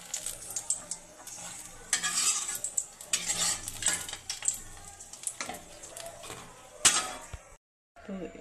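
Fried eggplant slices sizzle in hot oil in a pan as pieces are lifted out one by one, close crackling frying with metal utensil scrapes and clinks, a sharp clank near the end before sudden silence.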